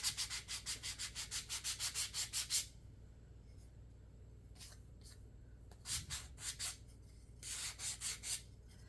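Sandpaper rubs along the edges of a wooden tray riser, a quick series of rhythmic rasping strokes up close, pausing, then returning in short bursts of back-and-forth scrubbing.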